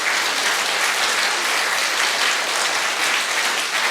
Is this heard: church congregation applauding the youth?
yes